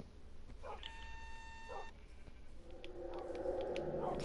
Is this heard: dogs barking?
yes